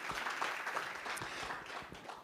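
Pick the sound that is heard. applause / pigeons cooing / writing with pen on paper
applause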